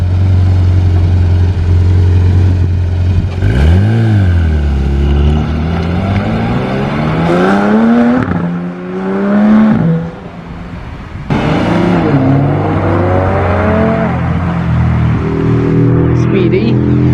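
A GT3 sports car pulls away from a classic and sports cars meet, its engine revving up through several gears in loud rising sweeps that fade with distance, while people talk nearby.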